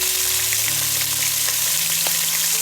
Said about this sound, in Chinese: 油热后把排骨放进来煎一下